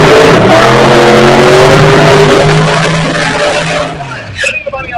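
A drag race car does a burnout at a Sick Week drag-and-drive event, its engine holding a loud, sustained high-rpm roar with steady harmonic tones before the revs drop and the sound breaks up near the end.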